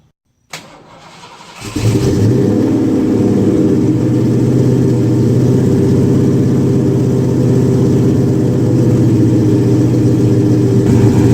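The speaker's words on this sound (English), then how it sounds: "this is going to be my first time starting it up with mufflers on it" Ford Foxbody Mustang drift build fitted with new mufflers cranks, fires up and settles into a loud, steady, rumbling idle close by, running continuously after the start.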